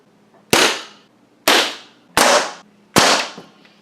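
Four sharp, close shots from a Benjamin .22 caliber air pistol, evenly spaced cracks about a second apart, each with a short fading tail.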